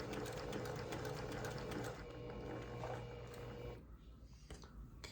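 A sewing machine stitching the corner triangles of an on-point quilt runs slowly with a steady mechanical whir and rhythmic needle clatter, close and fairly quiet, and it stops near the end.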